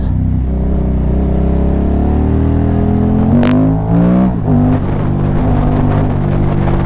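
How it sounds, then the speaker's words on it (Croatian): A 2005 KTM 950 SM supermoto's V-twin engine revs hard under throttle, loud and close, pitch climbing steadily, dipping briefly at a gear change, then rising again. "ovo je nenormalno kako ovaj motor izbija, izgađa na gas"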